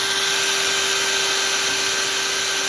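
Steady broadband whir of a power drill running continuously at close range with a dull bit, working into engine heads with small 5/64 and 5/16 bits, a constant drone with a faint high tone and no pauses.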